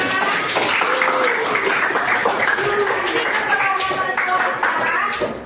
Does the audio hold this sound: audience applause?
yes